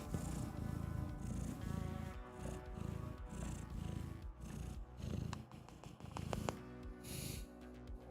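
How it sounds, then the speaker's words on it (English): A cat purrs close up in a steady, rhythmic rumble, each breath pulsing evenly, with faint small rustles. "Listen to the purrs."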